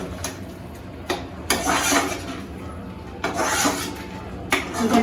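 Spices being stirred in a cooking pan for paneer butter masala, with repeated scraping and clinking strokes of a utensil against the pan in irregular bursts, close and moderately loud.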